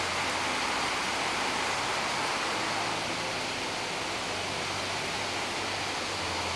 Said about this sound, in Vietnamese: Ôi, ngoài trời mưa to lắm anh em ơi.